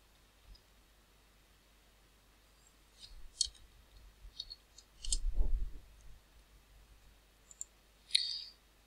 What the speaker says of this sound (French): si nous tapons pampre dans le dictionnaire